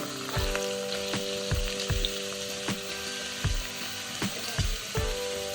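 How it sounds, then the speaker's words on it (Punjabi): Chopped onions fry in hot oil in a kadai with a steady close sizzle, while a utensil knocks and scrapes against the pan about ten times at a fairly regular stirring rhythm. "ਤੇਲ ਚ ਪਾ ਦਾਂਗੇ ਆਪਾਂ ਕੱਟੇ ਹੋਏ ਪਿਆਜ਼"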